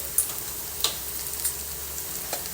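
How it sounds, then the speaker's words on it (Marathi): Onion fries in a pan until browned, a low steady sizzle with a few light clicks of a spoon or spatula, close and without speech. "ब्राऊन होईपर्यंत चांगला फ्राय करायचा कांदा"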